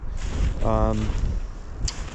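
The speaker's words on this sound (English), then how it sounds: "this wind has been howling all day" Steady rushing mountain wind roars throughout on a trail near Sonora Pass, broad and constant, with a brief low tonal hum partway through and no voices.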